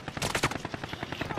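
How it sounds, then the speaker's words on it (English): Rapid burst of gunfire in the video game Call of Duty Cold War Warzone, a quick string of sharp close shots lasting about a second with a faint voice underneath. "Someone just shot at me."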